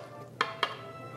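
Frozen spinach being slowly stirred into a mixture in a bowl, two quick soft scraping clinks of a utensil close by, otherwise quiet.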